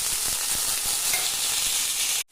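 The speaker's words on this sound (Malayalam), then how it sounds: "ഇതിലേക്ക് നമുക്കിനി അരിഞ്ഞു വെച്ചിരിക്കുന്ന സവാള ഇട്ട് കൊടുക്കാം." Chopped onion sizzles steadily in hot oil with mustard seeds for bamboo shoot thoran, a dense broadband hiss with faint stirring taps, continuous and close before cutting off abruptly at the end.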